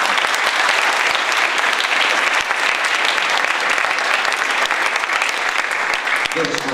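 Sustained, dense applause fills a hall at a municipal event in Ilion marking the International Day of Persons with Disabilities, with loud, steady clapping throughout and no pause.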